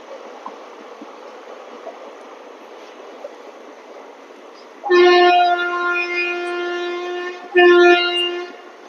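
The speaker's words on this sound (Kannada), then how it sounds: "ನೋಡ್ರಿ, ಟ್ರೈನ್ ಹೋಗ್ತಿದೆ" A train passes just behind an ashram at Ghataprabha, first as a low distant rumble, then a loud, sustained horn blast that breaks off and sounds again briefly, with the engine roar continuing underneath.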